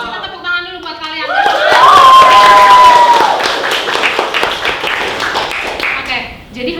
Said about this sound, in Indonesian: Kita tepuk tangan dulu buat kalian.